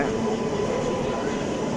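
A long-distance passenger express train on an Indian railway line makes a steady, continuous rumble with a broad wash of rail noise and no distinct clacks, moderately loud throughout.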